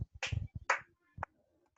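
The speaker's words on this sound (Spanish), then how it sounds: "aplaudan." Hands clap during a sixth-grade class lesson: a few short, sharp claps in irregular bursts, fairly close, with brief gaps between them.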